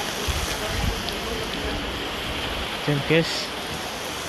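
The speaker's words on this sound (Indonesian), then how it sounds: "Hujan tambah deras." Heavy rain falling outdoors during an Eid prayer gathering in Ansan, South Korea, a steady dense hiss throughout, with people briefly talking over it.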